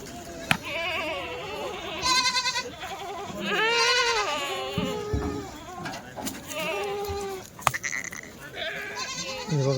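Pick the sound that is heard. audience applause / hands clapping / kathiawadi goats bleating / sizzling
kathiawadi goats bleating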